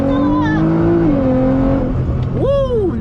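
A 2012 Nissan GT-R accelerates hard with a loud engine whose pitch climbs, shifts and climbs again. Excited voices shout over it.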